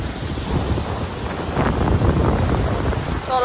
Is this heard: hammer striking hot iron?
no